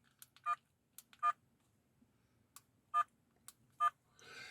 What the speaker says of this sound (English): There is here a beep sound.